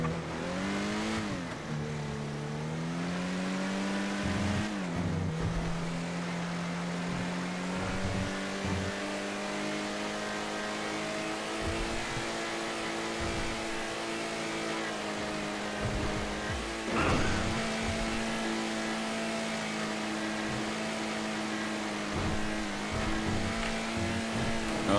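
Car engine in the GTA roleplay game driving through a city at around 90–95, a steady droning hum with shifting revs and a couple of brief gear-change dips, continuous and fairly close throughout.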